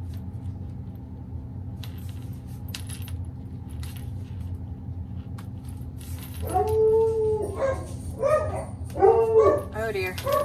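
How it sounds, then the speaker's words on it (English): Two household dogs bark and howl at a delivery person, starting after a stretch of quiet room hum with faint clinks, then rising into repeated close, loud barks. "I think he just barks because she's barking."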